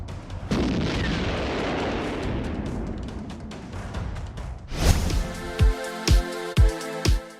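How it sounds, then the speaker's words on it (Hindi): Bomb explosions rumble during a Russian attack on Kyiv: a sustained, heavy low roar comes first. A sharp blast follows, then a series of rhythmic deep thuds, all loud and without voices. "बम धमाकों से ऐसे कीव को कब्रिस्तान बना रही है पुतिन की सेना।"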